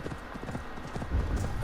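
A horse named Panoramix gallops in Assassin's Creed Valhalla, its hooves pounding in a fast, steady clip-clop rhythm that sounds close and clear throughout.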